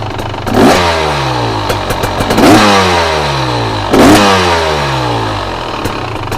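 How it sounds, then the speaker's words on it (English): A fuel-injected KTM dirt bike engine warming up, revved hard and close three times with rising and falling pitch sweeps over a steady, loud idle. "And I'm barely rolling the throttle too"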